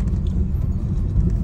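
Cars and vehicles driving past along a street, a loud, steady low rumble of traffic with no gaps, close by and continuous.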